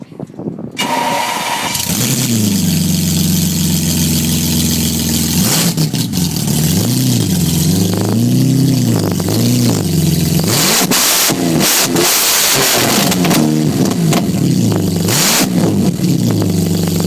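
A BMW V12 running straight off open headers cranks and catches, then roars loudly through repeated revs with rising and falling pitch and sharp backfire pops near the end.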